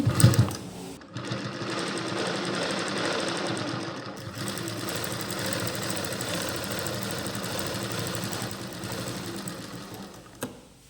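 Sewing machine stitching the hem of a blouse, a fast steady mechanical whir running for several seconds after a short start, stopping briefly and resuming, then halting near the end.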